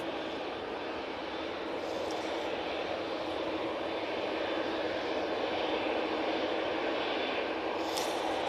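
TUI airliner at Manchester Airport, a steady distant roar of jet engines as it departs, broad and even throughout with no voices.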